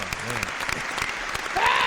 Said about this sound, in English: Give a round applause.